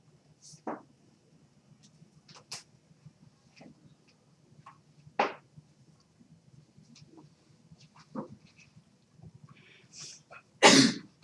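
A single sharp sneeze bursts out near the end in a classroom during a math lesson, loud and close, after scattered faint clicks, taps and quiet background noise.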